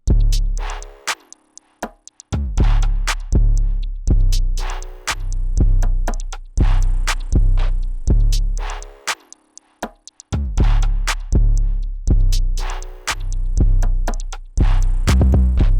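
A programmed ambient plugg hip-hop drum beat made in FL Studio with punchy, booming kicks and crisp hits in a steady loop, briefly dropping out twice.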